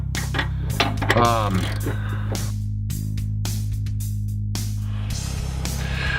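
Quick bursts of ratchet clicking and metallic tool noises while bolts are tightened on a Chevy Silverado nudge bar, in short separated runs over a steady low engine-like hum.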